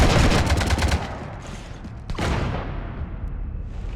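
Gunfire in the Mass Effect video game: a rapid fusillade of loud shots in the first second, then a single sharp blast, with echoing debris and rumble trailing off afterward.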